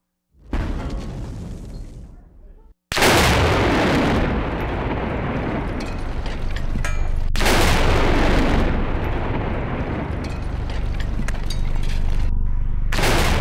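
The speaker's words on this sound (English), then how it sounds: "The sound of the blast will take 4 seconds to reach the bunker." A test explosion blast reaches a bunker: a loud, sudden booming rumble arrives after a short lull and rolls on continuously, briefly dropping before surging again.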